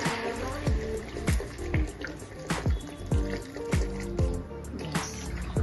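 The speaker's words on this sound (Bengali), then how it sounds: "এবার পরিমাণ মতো জল দিয়ে দিই" Water poured into a cooking pot in a home kitchen, splashing and trickling with a few sharp drips and knocks spaced through the pour, fairly close and moderate in level, no talking.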